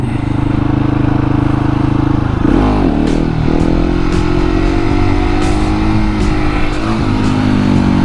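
A KTM 701 Supermoto engine running loud and close, its steady drone dipping and rising through a shift back to second gear, followed by a sustained higher rev.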